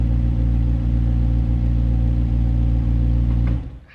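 McLaren 750S sports car engine, loud and close, with a dense throbbing drone and brief surges before the sound drops away abruptly near the end.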